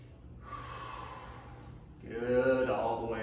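A deep breath drawn during a chair yoga stretch, a soft airy inhale building into a louder, fuller exhale near the end, close and with no talking.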